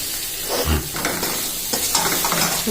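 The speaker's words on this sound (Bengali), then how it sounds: "এখন আমি মাছটা দিয়ে দেবো মশলাটা কষা হয়ে গেছে মানে আদা রসুনটা ভাজা ভাজা হয়ে গেছে" Prawns stirred into ginger-garlic masala frying in a pan, a loud, steady sizzle close up with scraping stir strokes running throughout, no voices.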